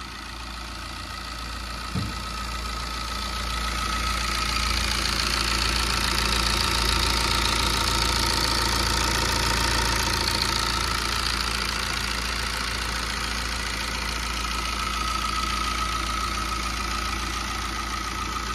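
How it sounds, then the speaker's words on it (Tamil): A Chevrolet Enjoy engine with over 340,000 on it, freshly assembled, runs at a steady idle after a brief start click, its smooth close drone swelling slightly then holding evenly. "இந்த செவர்லெட் என்ஜாய் இன்ஜினை வந்து பார்த்தீங்கன்னா நான் ஸ்டார்ட் பண்ணிட்டேன்"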